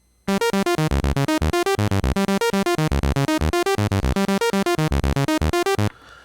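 A Korg Monologue synth bass line plays a fast sequenced pattern of short, evenly spaced notes in a steady rhythm, bright and buzzy, stopping abruptly at the end.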